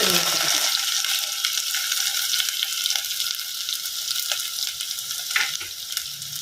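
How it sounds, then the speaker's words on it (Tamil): Mustard seeds and fenugreek splutter and crackle in hot oil, a steady bright sizzle with scattered sharp pops, close up and fairly loud, with no talking. "இப்போ இதை நல்லா பொரியட்டும். கடுகும் வெந்தயமும் சூப்பராக பொரிஞ்சிருச்சுங்க."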